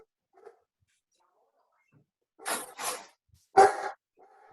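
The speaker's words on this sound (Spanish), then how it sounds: "O que calme el perro." A dog barking in the background of an online class through an open microphone, with three sharp, fairly loud barks spaced close together after a quiet stretch and no talking.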